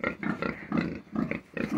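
Pigs grunt and oink in a quick series of short, nasal snorts, close by and fairly loud.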